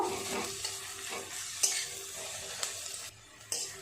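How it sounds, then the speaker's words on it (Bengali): A large chopped onion sizzles in hot oil while being stirred, with repeated scraping strokes and a few sharper clinks against the pan, moderately quiet and without talk. "দিয়ে দিয়েছি পেঁয়াজটা একটু নেড়ে চেড়ে ব্রাউন কালার করে নেব"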